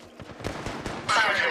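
Gunfire in the Apex Legends Mobile video game: a quick run of close shots pops out in a steady rhythm, then gives way to a louder, brighter burst of firing near the end, with faint talk mixed underneath.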